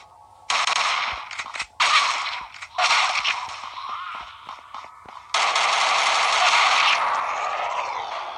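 Rapid automatic gunfire from a multiplayer shooter video game, loud and close, in several long bursts separated by short gaps, with one sustained volley at the end.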